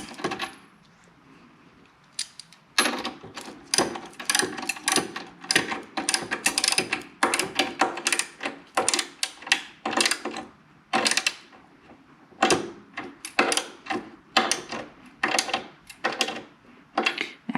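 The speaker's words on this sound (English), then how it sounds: "what we need to do now is tighten up the bolt with a 3/4 of an inch" A 3/4 inch ratchet tightens the bolt on a highway bar on an Indian Challenger motorcycle, with close, rapid bursts of metallic clicking in uneven runs separated by short pauses.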